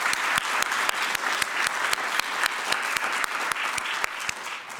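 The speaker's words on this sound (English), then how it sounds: "let's give United Healthcare a big round of applause as a financial sponsor" An audience applauds a financial sponsor at a corporate innovation event, sustained dense clapping throughout, steady and fairly loud with no voices.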